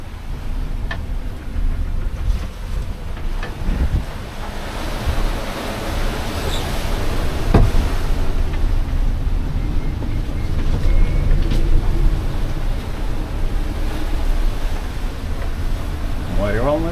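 Big waves strike a sailboat in 30+ knot wind on a rough passage from St. Barts to Sint Maarten, giving a loud, constant rush of wind and water with sharp thuds of spray against the hull.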